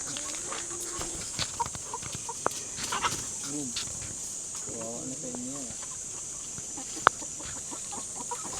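Chickens cluck in short, scattered bursts at close range over a steady insect-like hiss, with a few brief sharper calls.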